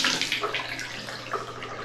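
A Moen bathtub faucet runs water with a rapid, machine-gun-like chatter: a strong rushing flow over a low, steady buzzing rattle, close by and brief, with no talking.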